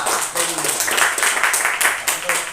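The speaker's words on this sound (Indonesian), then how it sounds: "Tepuk tangan buat kelompok 2" A classroom audience claps for a student group, a loose, uneven patter of hands with distinct individual claps rising and falling over a few seconds, with voices mixed in.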